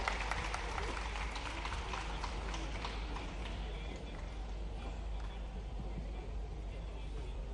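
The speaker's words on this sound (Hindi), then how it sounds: "प्लीज सर, आप सभी की जोरदार तालियों के साथ।" An audience at the opening of a science festival on a Bhopal campus claps to welcome a speaker to the stage, a steady roomy patter of hands with a voice talking over it.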